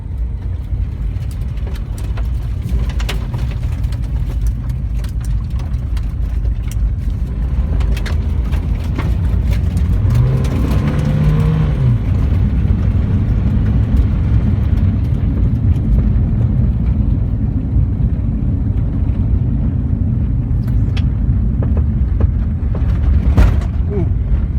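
A Honda CR-V rolls along a muddy dirt road off-road, its engine and tyre rumble a steady low drone from inside the cabin with occasional knocks and rattles.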